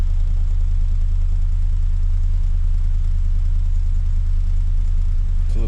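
A 2006 Lexus GS430 engine idles fast and steady, a low droning rumble with slight shake, close by and uninterrupted.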